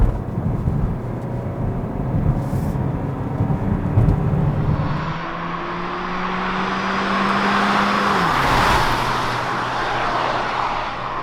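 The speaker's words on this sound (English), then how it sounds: "Let's put the car into Sports and drive" A 2020 Hyundai Kona Hybrid accelerating in Sports mode, with engine tones climbing through gear changes, then settling into a broad road and wind rush at cruising speed, heard from inside the cabin without talk.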